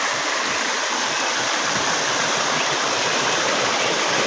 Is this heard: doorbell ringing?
no